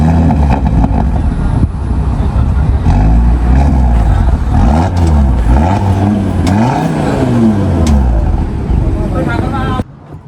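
An Audi RS Q3 with a 400 hp engine and four exhaust tips revs loudly up and down in several rising and falling sweeps at close range, cutting off abruptly near the end.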